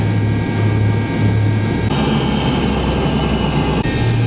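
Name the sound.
airplane jet engine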